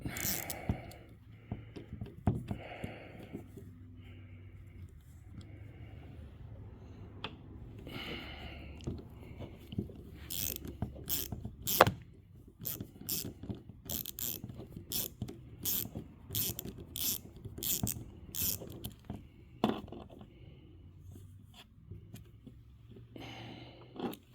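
Ratchet with a swivel extension turning out headlight screws on a C5 Corvette, bursts of rapid clicking pawl ticks separated by pauses, close up, with occasional breathing and handling noise.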